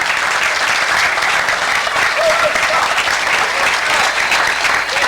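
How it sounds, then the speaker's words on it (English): Bowling crowd at New Frontier Lanes in Tacoma applauding the champion's win at a 1990 masters event, steady dense clapping held loud throughout, with faint voices mixed in. "And again, you can hear our crowd here at New Frontier Lanes."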